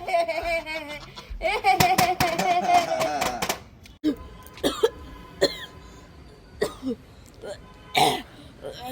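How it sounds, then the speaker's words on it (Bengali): A voice coughs and clears its throat in a burst of repeated harsh hacks, followed by scattered single coughs and sounds spread across the rest, close and fairly loud. "এই তোর তো কাশি হয়েছে"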